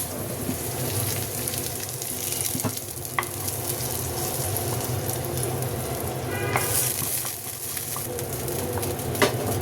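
Spices sizzle and crackle in hot oil for a nihari tempering, a close, steady frying hiss with occasional sharper pops and stirring clinks throughout.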